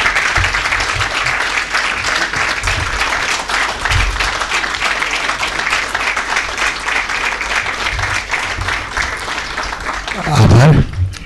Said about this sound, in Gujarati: આપણે સૌ એમને જ્યાં સુધી ના બેસે ત્યાં સુધી તાળીથી એમને વધાવીશું